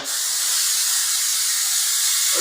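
A steady, loud hiss of a spray can held down continuously, close up and uninterrupted.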